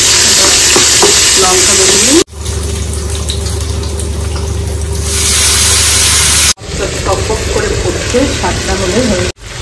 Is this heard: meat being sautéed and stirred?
yes